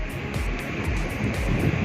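Sea waves on the beach at Anna Chellella Gattu near Antarvedi, East Godavari, where the Godavari river meets the sea: continuous surf wash with gusty wind rumble, fairly close and steady.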